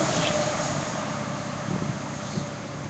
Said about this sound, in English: There's another police motorcycle.